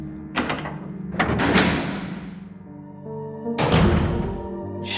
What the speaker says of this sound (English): The metal door creaked open.